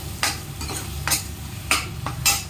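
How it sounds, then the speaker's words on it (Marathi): Onion masala for chole being stirred and sautéed in a pan, with repeated scraping strokes of a spoon at an irregular rhythm over a low, steady sizzle of frying, close and moderately loud, with no voices. "छान लालसर होईपर्यंत परतून घेऊयात"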